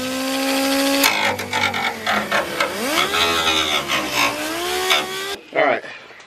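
A power sander grinds down a lip for supercharger belt clearance on a 2014 Mustang 3.7 V6 fitted with an M122 supercharger. It is a close, loud, whining rasp whose pitch sweeps up and down as pressure changes, then cuts off near the end.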